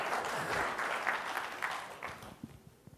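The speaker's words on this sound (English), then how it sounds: "So we need a bit of rapturous applause from it." Audience applause after a call for rapturous clapping at a TechEd New Zealand 2012 tech conference session, a dense wash of clapping that holds steady and then thins and fades toward the end, with a few last scattered claps.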